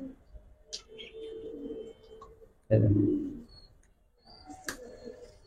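Giribaz pigeons with personal leg tags coo softly and faintly, with one louder, fuller burst midway and light chirps over a quiet background.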